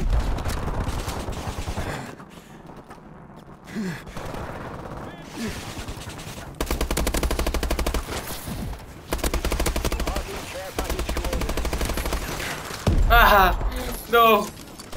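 Call of Duty gunfire: loud, close automatic bursts in several sustained stretches, with a reload and other game sounds between volleys.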